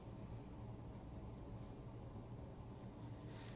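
A pencil scratches and rubs softly across paper while lines are redrawn on a shaded art study, a faint continuous scratching with no talk.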